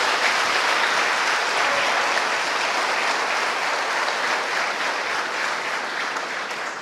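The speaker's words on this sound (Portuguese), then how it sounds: "Aplauda bem forte o seu Deus." A church congregation at a celebration service applauds loudly, a dense, continuous wash of clapping that holds steady throughout and fades only slightly at the end.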